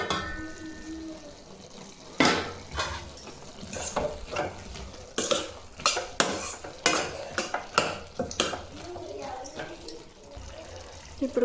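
A spoon stirs cucumber and tomato curry in a pan, making close, irregular clinks and scrapes against the metal, with a soft sizzle underneath throughout.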